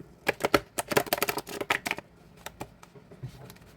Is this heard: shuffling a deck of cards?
yes